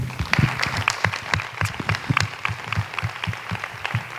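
An audience applauds a speaker at a round-table event on violence against women, a dense steady patter of many hands clapping across the whole stretch, moderately loud and without voices.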